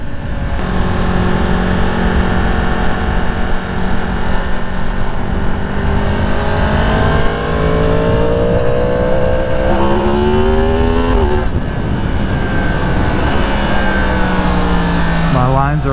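A 2022 Yamaha MT-10 SP is ridden hard, its engine droning loudly and rising through revs and gear changes with wind rush throughout, while the rider talks over it.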